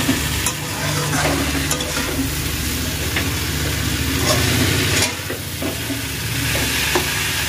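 A spiced mixture for a home-style Bengali dal dish sizzles and fries in a pan while a spatula stirs and scrapes through it, with a steady, close hiss and a slight dip midway.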